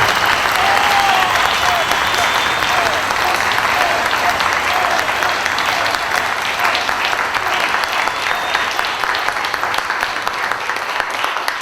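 Warm, continuous applause from a live audience at a 2012 Charleston presentation for Joshua P. Warren, dense steady clapping filling the whole stretch without letting up.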